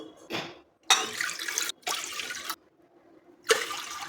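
Water pours in three or four short bursts separated by pauses, splashing into a metal pressure cooker nearby.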